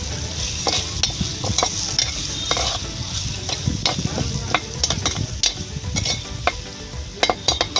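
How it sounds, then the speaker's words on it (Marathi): Vada pav potato filling with salt and coriander being stirred in a pan over a wood-fired stove, with a light sizzle under repeated sharp spoon scrapes and clinks against the metal. "आता हे हलवून घ्यायचंय।"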